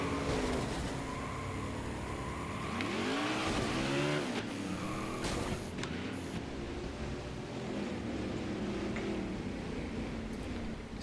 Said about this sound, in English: as Greg Biffle spins.